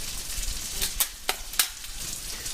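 Miso-glazed tilapia fillet sizzles softly in a hot pan, a steady gentle frying hiss broken by three sharp crackles or spatula scrapes close by.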